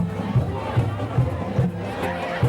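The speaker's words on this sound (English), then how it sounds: "the alumni cheerleaders and the varsity cheerleaders lead the crowd in the fight song" A homecoming high school football crowd sings the fight song led by cheerleaders, massed voices with a steady pulsing beat, loud and somewhat distant across the stands.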